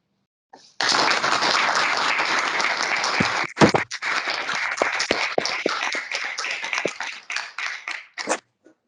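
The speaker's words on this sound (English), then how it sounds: "I'm going to suggest to the people here that we give Sean a round of actual applause" Live lecture-room audience applause at an evening talk in Oxford, a dense burst of clapping that runs for several seconds, then thins into scattered individual claps before stopping.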